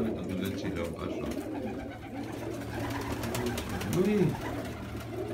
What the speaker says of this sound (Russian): как бы гул голубей, слышите?